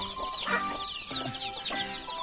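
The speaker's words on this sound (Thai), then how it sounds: "ไก่ร้องเจ๊กเจ๊กเเตุกตุก" Hungry backyard chickens cluck repeatedly in short overlapping bursts, close and fairly loud over a constant high background chirring, with no talking.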